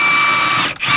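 A power tool or ratchet spinning off the main bolts of a boat motor mount, one loud, close, continuous whirring burst with a brief dip near the end.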